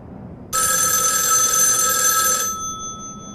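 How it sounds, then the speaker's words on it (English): At the close of the film Black Christmas a telephone bell rings loud and unbroken for about two seconds, then cuts off, leaving a faint ringing tail and quiet room tone. "The phone rings, louder and louder as the credits roll."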